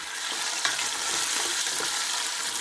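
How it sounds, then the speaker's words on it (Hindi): Mutton from a yakhni stock sizzles and fries steadily in oil with browned onions for pulao, a continuous close crackle with a brief stirring clatter early on and no talk. "ये गोश्त मैंने उसमें से निकाल लिया यखनी में से और अब हम इसमें डालकर इसको अच्छी तरह से भून लेंगे"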